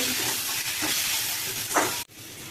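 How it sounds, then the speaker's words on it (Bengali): Taruli and potatoes frying with spices in hot oil, a steady broad sizzle and hiss with a few brief louder crackles, near and continuous before a sudden short drop. "মশলাটা দিয়ে আর একটু ভেজে নেব।"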